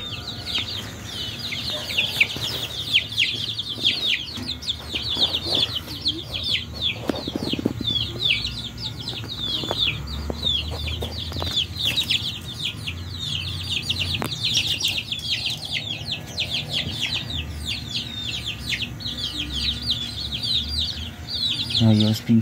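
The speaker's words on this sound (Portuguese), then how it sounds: "Aí os pintinhos mais novos." Chickens and young chicks cluck on a small farm, with a steady chorus of high chick peeps over lower hen clucks and rustling throughout.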